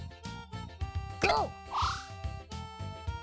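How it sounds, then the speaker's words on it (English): A frog croaks in a video game amid busy game music and sound effects, with a couple of short rising chirpy croaks standing out briefly near the middle. "And then you just let the frog do whatever it's going to do."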